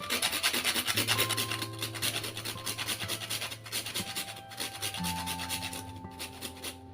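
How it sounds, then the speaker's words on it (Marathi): Whole nutmeg is rubbed against a kitchen grater while making homemade biryani masala, giving a close, continuous rasping scrape in quick repeated strokes, with a few faint background tones and no speech. "आणि जायफळ अर्ध किसून घालूया।"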